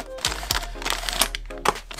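Plastic bag from an airsoft battery box crinkling in several sharp, close bursts with brief gaps between them as it is handled.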